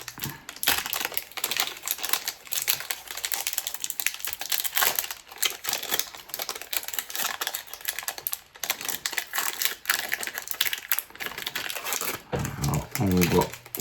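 Crinkly plastic wrapper of a Magic: The Gathering Duskmourn collector booster pack being torn open, with dense close rustling and crackling throughout and speech mixed in.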